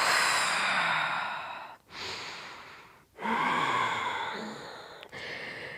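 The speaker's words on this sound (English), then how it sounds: "Deep breaths." Slow, deep breaths during a yoga pose, long airy inhales and exhales in three drawn-out waves with brief pauses between, close and soft, with no one speaking.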